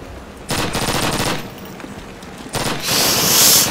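Bursts of rapid automatic gunfire from a Call of Duty match rattle out close and loud in two separate volleys, with a brief quieter gap between them.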